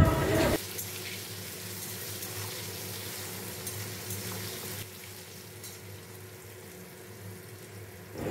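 Potatoes cut into long strips, salted and frying in hot oil make a constant broadband sizzle, louder for the first half second, then a steady hiss that eases slightly midway.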